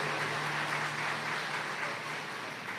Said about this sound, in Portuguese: Pode aplaudir se vocês entenderam.